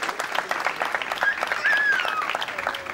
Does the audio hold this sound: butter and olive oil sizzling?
no